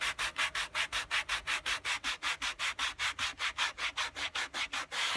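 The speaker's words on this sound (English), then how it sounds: "Sand it down a little bit." Sandpaper over a soft rubber foam pad sands a leather edge in quick, regular back-and-forth strokes, about five per second, each a close, bright scratchy rasp, with no voices.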